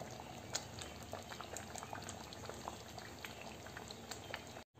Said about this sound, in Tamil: கிரேவி வந்து நல்லா கொதிக்க ஆரம்பிச்சிருச்சுங்க